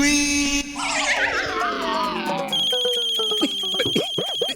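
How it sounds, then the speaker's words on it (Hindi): An electronic phone ringtone chimes in a repeating melodic pattern, fairly loud and close, with talk and other sounds mixed in around it. "फोन आ रहा है"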